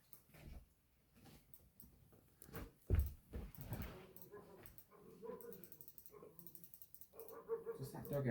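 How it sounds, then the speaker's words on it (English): A dog barks somewhere off in the distance, faint and intermittent, under quiet room sounds and soft mechanical clicks. "Is that dog barking?"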